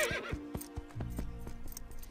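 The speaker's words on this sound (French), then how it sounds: "Regarde ce superbe pur sang." A thoroughbred horse in a cartoon neighs loudly with a shrill descending whinny, followed by a run of hoof clops, near and prominent with no talk.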